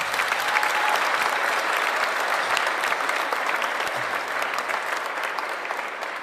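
Sustained crowd applause at a NASA space shuttle STS-133 crew return ceremony at Ellington Field, a thick, continuous wash of clapping from a large audience that holds steady and tapers slightly toward the end.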